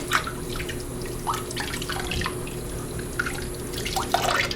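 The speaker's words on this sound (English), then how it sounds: "now I'm gonna go back and wash the soap off everything." Tap water running steadily over gas mask parts as soap is rinsed off, with splashes and drips against the pieces, close and continuous with no talking.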